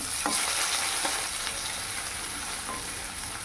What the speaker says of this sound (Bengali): মাছটা ভাজা হয়ে এসেছে